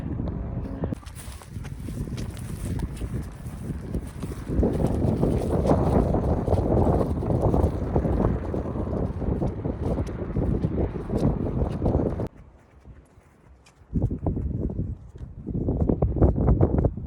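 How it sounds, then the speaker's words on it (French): Strong wind roars into the microphone in heavy, continuous buffeting gusts, briefly dropping off near the end before surging back. "il y a beaucoup de vent"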